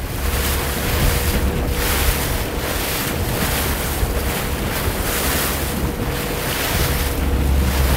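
A boat pitching through a rough, heavy sea during a whale-watching chase, with steady wind buffeting the microphone and waves surging in repeated swells, loud and continuous throughout with no talk.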